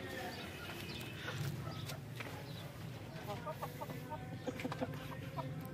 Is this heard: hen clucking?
yes